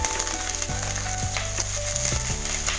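Chopped onions frying in hot oil in a pan for fried rice, a steady loud sizzle with a few sharp clinks and scrapes of stirring, no talking.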